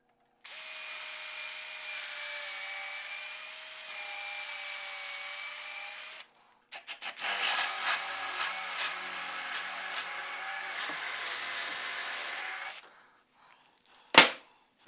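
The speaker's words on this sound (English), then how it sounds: "now that I've got this pilot hole cut and the 3/8 hole cut, I use the pilot hole just to guide this 3/8 hole" Power drill boring a pilot hole and then a 3/8-inch hole in a stair railing, two sustained whining runs separated by a brief pause, followed by a sharp knock at the end.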